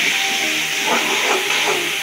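Spiced curry paste of ground ginger, cumin, coriander, chili and garlic with chopped onion sizzles steadily in a hot pan, a continuous close hissing fry with slight surges.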